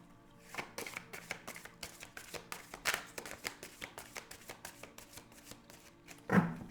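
Repeated tarot card shuffling up close, rhythmic papery flicks and slaps in quick succession, with a short louder burst at the end.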